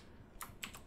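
A few quick keystrokes on a computer keyboard while entering a Windows 7 repair-disk command, three soft clicks spaced apart in a quiet room.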